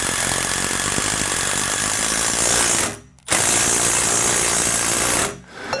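A power driver sinking a self-tapping screw into a safety rail, two loud sustained buzzing, grinding runs, each ending in a brief stop, close and without talk.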